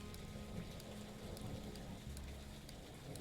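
Steady rain in the video game The Roottrees are Dead, an even, continuous hiss of falling water with scattered drop ticks and a low rumble beneath, unbroken and without any voices.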